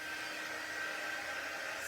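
A hair dryer blows steadily on paste spread over a wooden door hanger, a constant close whooshing hum with no talk.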